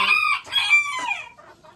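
Roosters and hens on a Ukrainian homestead flock cluck and call in a steady run of close, overlapping squawks, with no talk.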